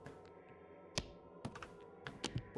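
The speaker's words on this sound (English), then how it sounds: "It's the sound of mahjong." Faint mahjong tiles shuffle in a horror video game, a few soft, irregular clicks and clacks over a low, steady background.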